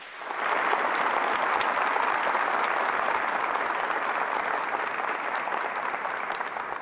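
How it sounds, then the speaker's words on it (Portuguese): Congregation applauding during a church sermon, dense sustained clapping from a large crowd, loud and even throughout. "Pode aplaudir mais uma vez? Aplaude mais uma vez."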